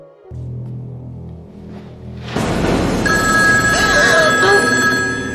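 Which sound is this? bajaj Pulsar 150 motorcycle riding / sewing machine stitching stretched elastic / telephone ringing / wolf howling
telephone ringing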